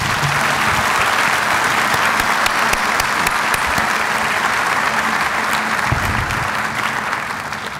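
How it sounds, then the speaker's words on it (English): A large audience at a university State of the University address gives a hearty, sustained round of applause, dense and even, tapering slightly at the end. "Let's give my bosses a hearty round of applause."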